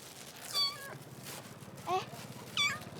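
A cat meows three times, short and high-pitched, fairly close, with soft background noise and speech around the calls.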